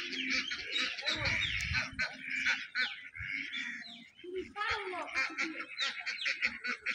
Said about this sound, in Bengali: এই দেখেন আমার হাঁসেরা